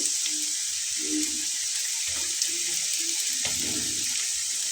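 Onions sizzle steadily in a hot pan for a fish curry with mustard and green chilli, a continuous bright frying hiss with a few soft scrapes and stirs, close and alone.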